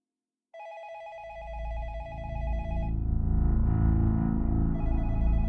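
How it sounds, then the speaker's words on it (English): A telephone rings with a bright electronic trilling tone in two bursts, over a low rumbling musical drone that swells underneath, with no talk. "she heard her phone ring again"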